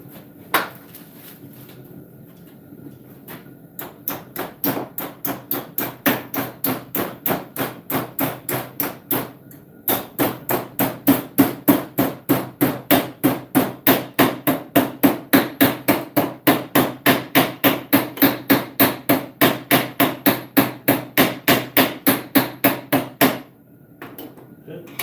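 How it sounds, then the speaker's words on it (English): Metal piece clamped in a vise is struck by a hammer in a long steady series of loud, sharp blows, roughly two per second, with a brief pause partway through, during fabrication for a large Eartha build. "hammer that down."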